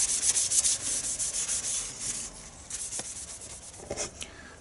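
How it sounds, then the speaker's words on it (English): Rubbing dark brown leather dye and Danish oil into an old-style wooden knife handle, a close, brisk series of dry rubbing strokes in a quick rhythm that slow and soften toward the end. "I'm gonna put a bit on here with the Danish oil and rub it in and see what it looks like."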